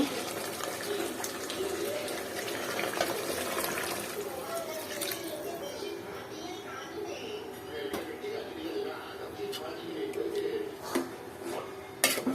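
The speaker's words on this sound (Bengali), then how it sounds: "পানি অ্যাড করে দেব" Water is poured into a pot of beef curry with potatoes as a steady, close splashing rush that lasts throughout, with faint voices in the background.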